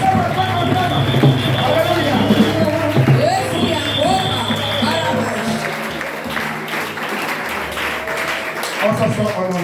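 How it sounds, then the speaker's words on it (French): Audience at a Pentecostal seminar applauding and cheering: a dense, loud, continuous wash of clapping and crowd voices with a speaker's shouting mixed in. "On acclame."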